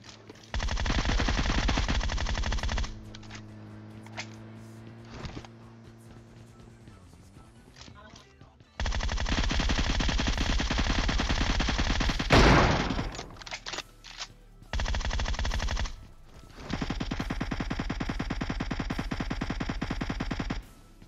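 Rapid automatic gunfire in a battle royale shooter comes in long sustained bursts separated by short gaps, loud and close, with a voice speaking between volleys.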